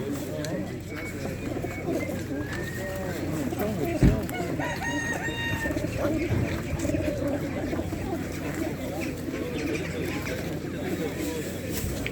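Roosters and other fowl call at an outdoor livestock market in Elbląg, Poland, with crowing and clucking heard through a busy din of chatter, bird calls fairly close but partly buried under people talking.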